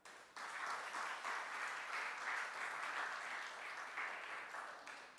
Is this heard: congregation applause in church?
yes